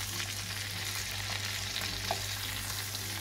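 Veal sweetbreads roasting in a pan while being basted with salted butter, a soft even sizzle and crackle with a faint steady hum, no one talking.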